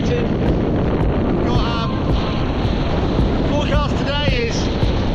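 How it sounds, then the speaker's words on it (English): Strong wind gusts roar continuously across Kearvaig Beach on the coast of Britain, buffeting the microphone in a loud, unbroken rush with a surf-like wash beneath, while someone speaks briefly. "Every now and again the gusts are really severe, blowing sandstorms across here"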